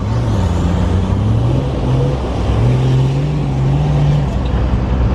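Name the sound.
4WD truck driving in two-wheel drive at river run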